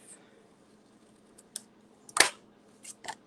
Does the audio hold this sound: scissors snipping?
yes